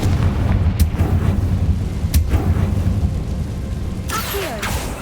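Explosive blasts from the Confringo spell in Hogwarts Legacy, several sharp booms and crackling bursts over a continuous rumbling game soundscape, no speech.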